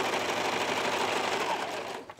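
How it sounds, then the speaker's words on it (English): A serger stitches a 3-thread wide seam through stretchy swimsuit fabric, giving a steady, close, continuous motor whir with rapid needle chatter. It runs alone and evenly, then tapers off near the end. "I've got the machine set for a 3-thread wide stitch, and I'm gonna just put that right underneath the foot"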